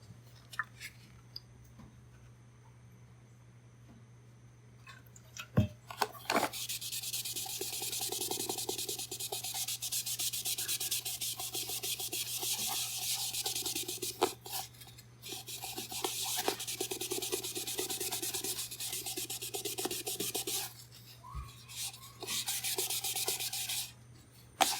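A shop rag wetted with Goof Off scrubs over a surface to lift gum and marker, making long, close stretches of steady rubbing and scouring broken by brief pauses and a few knocks.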